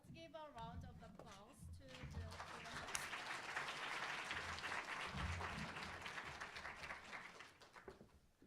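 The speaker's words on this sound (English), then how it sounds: "let's give a round of applause to the presenters." An audience at the UIST 2022 conference applauds presenters, sustained, dense clapping from a crowded room that swells and holds steady after a brief spoken introduction.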